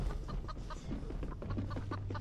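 Repeated chicken clucks from a video game, short bursty calls in a steady run, moderately loud over game background noise with no talk.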